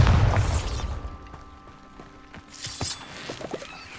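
A Bombarda blasting spell goes off in Hogwarts Legacy: a loud low boom at the start fades into a rumbling tail, followed by scattered crackling debris and smaller pops.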